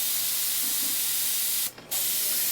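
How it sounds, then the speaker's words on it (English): An airbrush sprays paint onto model defence walls, a steady close hiss of air that cuts out briefly near the end before resuming. "we're just going to begin spraying and laying the color down"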